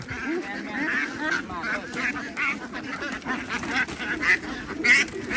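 Several ducks, laying ducks on a farm, quack and honk steadily in a busy chorus, fairly close, with a person talking intermittently underneath.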